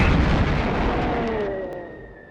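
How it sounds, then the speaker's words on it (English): Loud, rumbling explosions from Monty Python and the Holy Grail, a dense broadband roar that booms at first then slowly fades, with a faint tonal whine underneath and no talking. "Okay, those are actual explosions."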